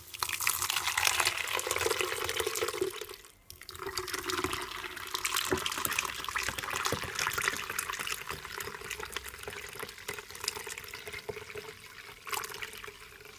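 Homemade cucumber juice is strained, a continuous rushing pour of liquid that pauses briefly and resumes, steady and fairly close with no talk.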